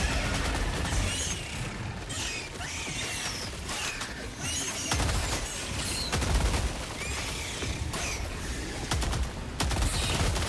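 Heavy gunfire in the Helldivers 2 video game on Helldive difficulty 9, with dense, continuous bursts of shots and mechanical clatter running through the whole stretch, loud and close.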